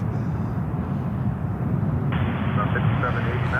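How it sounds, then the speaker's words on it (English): An airliner taking off at Charlotte airport, a loud steady jet roar and rumble that swells partway through. Voices talk over the noise the whole time. "There is the next takeoff coming up here."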